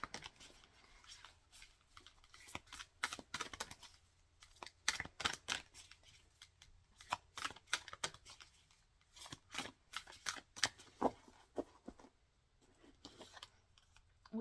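Oracle cards being shuffled by hand, a fast run of crisp riffling and slapping bursts that comes in uneven waves, close and fairly quiet, with no voice over it.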